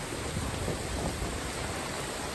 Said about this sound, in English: I got an umbrella and I'm completely drenched because rain's coming from all